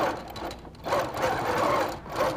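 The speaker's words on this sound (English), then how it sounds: "So let's do some really tight quilting on this." A sewing machine stitches tight quilting through the layers of a beret in two or three quick bursts of fast mechanical whirring, close and clear with no speech.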